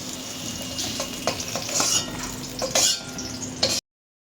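Eggplant frying in a pan, a steady close sizzle broken by several scraping stirs and clinks of a utensil against the metal, with no talk, ending abruptly.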